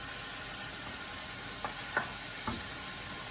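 Ground beef cooking in a pan, a constant soft hiss of frying fat with a few faint scrapes as it is stirred.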